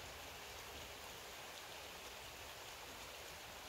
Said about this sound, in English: it's starting to rain, so Victor and I are gonna start heading hom